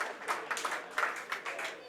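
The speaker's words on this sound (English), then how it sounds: "they get a good round of applause" Rugby league fans in a stadium give a modest round of applause, with distinct, slightly uneven claps that sound somewhat distant and soft while crowd murmur sits underneath.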